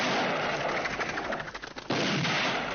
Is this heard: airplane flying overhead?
no